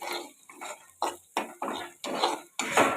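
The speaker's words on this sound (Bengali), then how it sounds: "পেঁয়াজটা ভাজতে শুরু করেছি এই যে ভালো করে ভেজে নিচ্ছি" Onions frying in a pan while cooking khesari greens are stirred with a metal spoon, a rhythmic series of close scraping and clinking strokes over a soft sizzle, with no voices.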